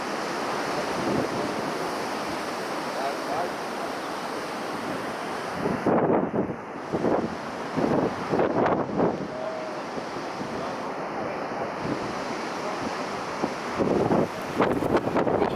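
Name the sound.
strong gale wind and ocean surf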